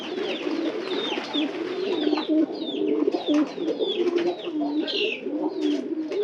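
A pigeon, newly kept indoors, coos in low, rolling repeated calls, close and steady throughout, with faint higher chirps scattered over the cooing and no speech.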